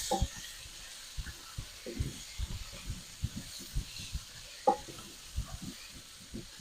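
Mushrooms frying in a pan for chicken cacciatore, with a soft steady sizzle and hiss and repeated stirring scrapes and taps breaking through at an uneven rhythm, fairly quiet and close.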